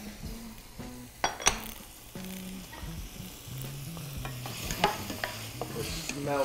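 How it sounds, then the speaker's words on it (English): Chunks of swordfish hit a hot pan with garlic and tomato and are tossed around, producing a soft sizzle under repeated scraping and clinking of a utensil against the pan, close and fairly quiet. "So we're gonna throw the swordfish in. I'm gonna toss that around a little bit."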